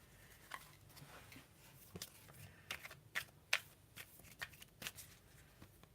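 Rider-Waite tarot cards shuffled and handled nearby, with a run of soft papery riffles and slaps that peak in crisp bursts midway, quiet and without talk.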